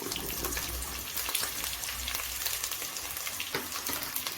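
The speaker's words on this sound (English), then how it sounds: "I'll just go ahead and add my carrots" Carrots go into a pot of frying potatoes for Kenyan Kamba muthokoi, with a steady close sizzle and light stirring throughout and no talking.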